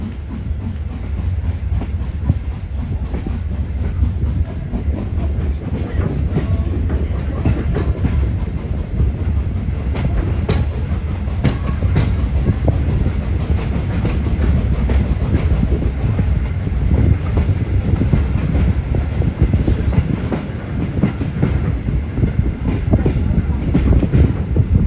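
A steam train on the iron-mine heritage line at Fond-de-Gras rolls steadily along the rails, giving a continuous low rumble with rhythmic wheel clatter and some wind buffeting the microphone.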